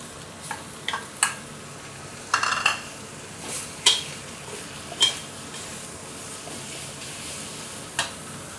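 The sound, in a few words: pork stir-frying with curry paste in a pan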